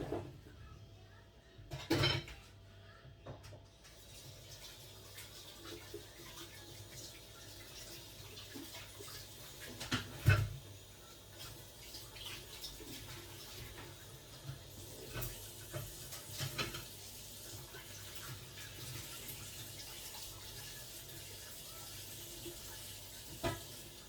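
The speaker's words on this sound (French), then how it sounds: "Je vais rincer tout ça tout de suite parce que je vais en avoir besoin." Utensils are rinsed under a running kitchen tap while a coconut yogurt cake is made. A soft, steady stream of water flows throughout with occasional clinks and knocks, quiet and close, with faint talk in the background.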